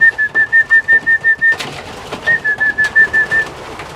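Racing pigeons coo inside a loft in a rapid run of soft rhythmic pulses, close and loud, with a brief pause before another series begins, while a thin whistle-like tone carries over the cooing.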